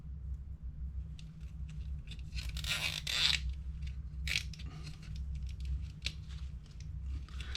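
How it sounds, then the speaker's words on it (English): A plastic zip tie is cinched tight around a drone's Naza flight controller, giving a series of short ratcheting and tearing rasps, strongest in one burst near the middle, over a steady low hum. "Put another wire, another zip tie on there."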